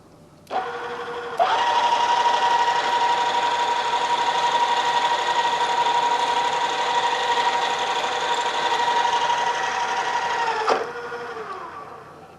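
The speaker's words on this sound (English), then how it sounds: "when you start drilling with a regular drill" A steady, high-pitched whine of a regular drill boring a hole in metal in a machine shop holds for about nine seconds, starting and stopping abruptly, loud and close with no talking.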